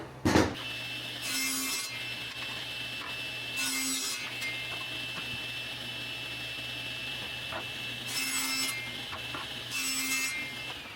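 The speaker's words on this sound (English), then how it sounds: "So I'm gonna cut these down to size." Wood boards for drawer box sides and fronts being cut to size with a saw: four separate bursts of rasping strokes, each lasting about a second, set against a steady low hum, fairly close and with no talking.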